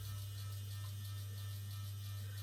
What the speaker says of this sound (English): apologies for the fan sound